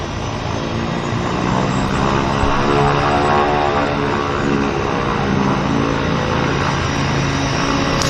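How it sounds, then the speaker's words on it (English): A Twin Otter floatplane operated by Harbour Air passes near the Vancouver float base, its propeller engines giving a loud, steady drone that holds throughout with no talking. "It was this Twin Otter coming back."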